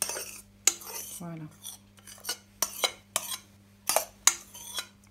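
Egg whites for a sea urchin and scallop soufflé are folded into the mixture in a bowl, giving a series of soft clinks and scrapes of utensil against the bowl, with one brief spoken word.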